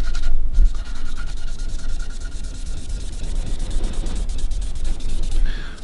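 Binding glue being scraped off a quilted maple carve-top guitar body makes a continuous close, loud rasping rub that rolls on steadily without pause or voices.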